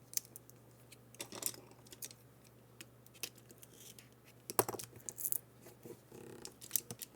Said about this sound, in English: I put like a piece of tape for extra security.